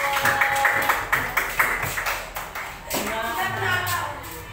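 A class claps for a student group after its presentation, with brisk uneven claps up close that thin out partway through while voices carry on underneath.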